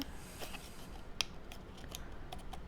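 Scissors snipping through card stock for an insect pop-up card, a quick series of small sharp cuts close up and quiet over faint room noise.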